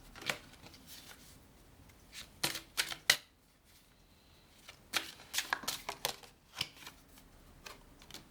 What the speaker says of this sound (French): On va essayer de tirer d'autres cartes.